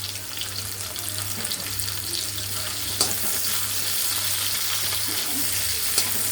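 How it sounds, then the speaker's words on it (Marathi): Chopped onion sizzles in half a ladle of hot oil in a pan, a steady close frying hiss with a couple of small clinks, no voices. "मी आता अर्धी पळी भरून तेल घातलेलं आहे तर ते थोडं गरम होऊन देऊया आता इथे कांदा घ्यायचा आहे"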